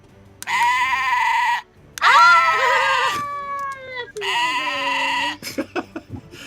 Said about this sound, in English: It is the screaming goat.